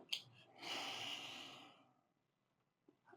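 A single slow breath drawn in during a seated chair yoga flow, a soft, airy rush lasting about a second, quiet and close, with no talking.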